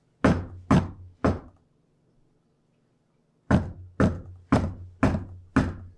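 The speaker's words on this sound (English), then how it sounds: "I'm a knocking." Knocking on a tavern door in a tabletop role-play session: three loud, close raps, a pause of about two seconds, then five more evenly spaced knocks, with no talk over them.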